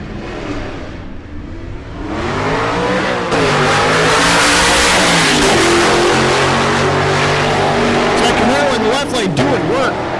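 A 4th gen Camaro race car launches down a drag strip, its engine climbing into a loud, rising roar that builds and holds near the listener. An announcer's voice runs over it.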